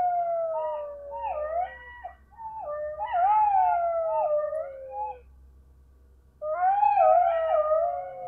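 A chorus of wolves and jackals howls in long sliding, quavering waves, breaking off around the middle before a fresh burst of calls returns, steady and unaccompanied by voices.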